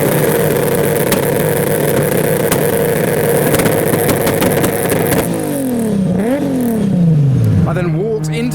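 A Lexus IS200 fitted with a 2JZ engine idles loudly and roughly nearby, then gives several sharp revs that swoop up and fall away over the final few seconds.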